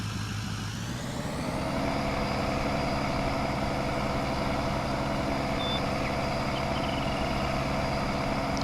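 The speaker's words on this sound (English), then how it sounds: "So a nice diesel growl to the engine." A Ford F350 diesel truck in Farming Simulator 19 settles into a steady, loud engine drone after a brief rise in the first second, with a continuous low rumble and no voices.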